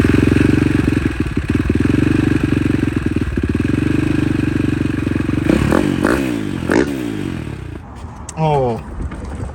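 A KTM 450 engine on a homemade buggy build, freshly refuelled, is cranked over with a loud sustained mechanical churning and clatter, then sputters through several short bursts that fade toward the end.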